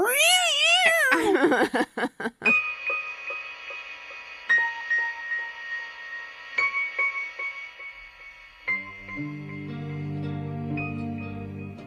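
A cat resisting being put into a carrier yowls loudly in a few drawn-out, wavering cries at the start, followed by quieter tonal sounds and a rising hum.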